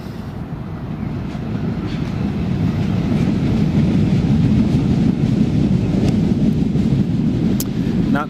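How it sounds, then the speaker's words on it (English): A Newcastle Airport metro train passing near a runway at night: a continuous low, rumbling roar that swells and holds steady for several seconds, heard from some distance with wind buffeting the microphone. "the noise you can hear every so often behind me is the sound of the metro line"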